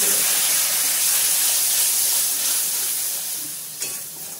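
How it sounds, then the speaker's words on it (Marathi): Water poured into frying masala of red chili and salt for an aloo bhungra dish, giving a loud, steady hiss of sizzling steam that fades slightly toward the end. "आणि हा मसाला जळू नये म्हणून आपण त्याच्यामध्ये पाणी टाकतोय"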